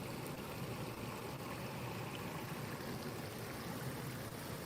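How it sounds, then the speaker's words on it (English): Water pours over a lower waterfall outdoors as a steady, even wash of rushing flow. It is faint and alone, with no talk. "So guys, this is the lower waterfall."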